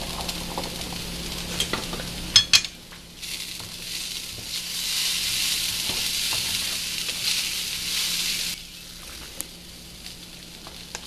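Sago pearls added to browned potatoes in a frying pan for sabudana upma, a couple of sharp clacks, then a steady sizzle with stirring that swells loud for several seconds before settling quieter.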